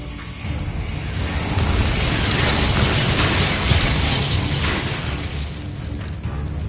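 The Expulso explosion spell in the video game Hogwarts Legacy gives a dense, sustained roar of blasts and crackling debris that stays loud and full-bodied throughout, with no pause or quiet gap.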